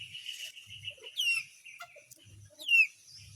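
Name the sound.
chicks and chickens clucking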